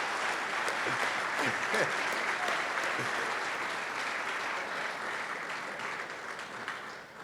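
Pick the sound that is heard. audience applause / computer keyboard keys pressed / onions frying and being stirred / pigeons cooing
audience applause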